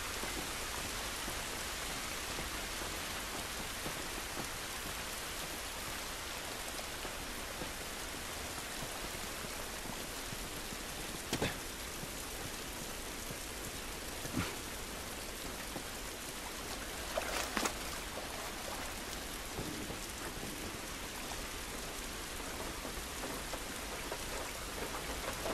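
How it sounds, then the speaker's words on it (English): Steady rain hisses softly through a scene in the video game The Last of Us, an even wash of falling water and drops at low volume, with a few faint sharper ticks and no voices. "This rain ain't gonna do us any good."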